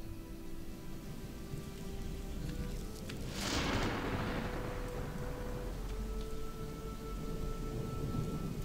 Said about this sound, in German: Jo, oh, hier regnet's.